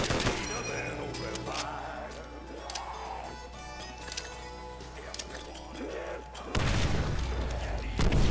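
Gunfire rattles in a zombies video game on a custom baseball field map, dense repeated shots over a low rumble, with voices talking and a heavy loud blast near the end.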